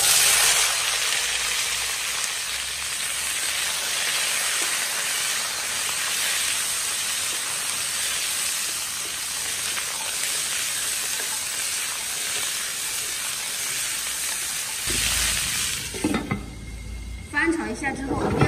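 Fresh, well-drained lotus seeds stir-fry in hot oil in a wok, giving a continuous loud hiss and sizzle with faint scraping, which gives way to softer clatter near the end.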